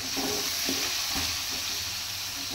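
Seasoning spices fry in hot oil with a constant, even sizzle and a few soft stirring knocks, heard up close for a short stretch before onion goes into the tamarind-free vendakka katrika kaara kulambu; no talking.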